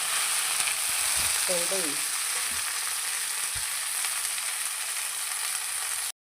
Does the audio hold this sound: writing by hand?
no